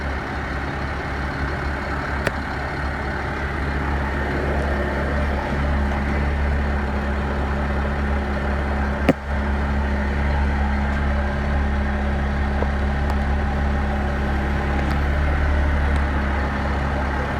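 A 2003 GMC 7500 dump truck's Cat 7.2 diesel engine idles with a steady low rumble throughout, with a couple of brief clicks along the way.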